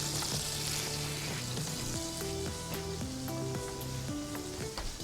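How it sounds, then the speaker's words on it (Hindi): Sugar caramelizing in a pan for a smash beef burger, giving a steady loud sizzle and crackle that runs unbroken through the whole stretch, heard alone with no talk over it. "चीनी को मैं कैरेमलाइज़ करना रख देता हूँ"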